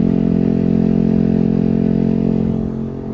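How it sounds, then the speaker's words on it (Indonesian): A Yamaha NMAX scooter fitted with a new aftermarket exhaust idles and revs close by, a steady low throbbing drone that eases off toward the end. "terakhir kita pasangin nih buat knalpot barunya guys."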